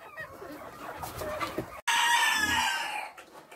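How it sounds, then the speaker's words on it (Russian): A young farmyard rooster gives a single loud, strained crow that sounds near. Softer clucking and yard noise come before it. "Молодой петух уже кукарекает,"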